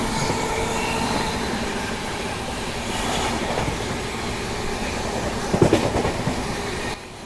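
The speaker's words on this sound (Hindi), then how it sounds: "देखो अब स्लो होने की ट्रेन।" Passenger train on the railway slowing down, steady rumbling wheel and carriage noise with clickety-clack beats and a brief louder clatter near the end, heard from inside the train.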